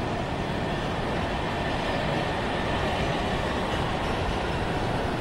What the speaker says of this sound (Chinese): 地铁来了。